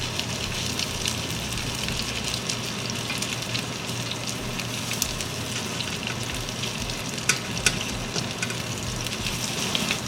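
Salmon croquette patties fry in a pan with a steady, close sizzle, and a few brief sharp clicks and scrapes mark them being flipped over.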